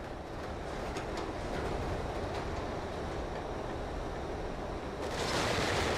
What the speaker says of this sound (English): And this is the tram ride segment.